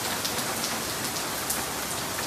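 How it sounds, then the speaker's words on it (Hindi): Heavy stormy rain pours down steadily, a dense, constant hiss of drops drumming on surfaces close by, with no pauses. "और इतनी की तेज बारिश हो रही है ना"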